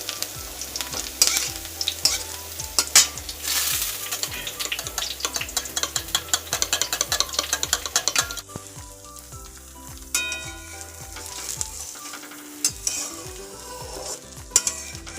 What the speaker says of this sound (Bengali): আলু চোখা করবো তো পেঁয়াজটা দিয়ে ভাজছি